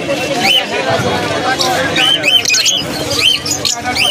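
Cockatiels at the Shrirampur pet bird market give repeated sharp squawks, several close calls rising over a steady crowd murmur and background chatter throughout.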